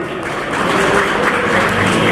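Hearty applause from a gathering at an Indian Railways retirement farewell for a colleague, a dense, steady wash of clapping hands that swells slightly and continues throughout.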